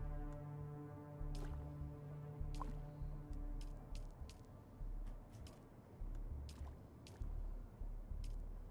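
Water deposited in Dune Awakening, a run of quiet dripping, squishing liquid plops that repeat irregularly over a low steady hum, faint and close.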